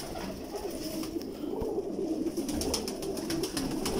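Champion-breed pigeons coo repeatedly, soft rolling calls layered over a light background hum.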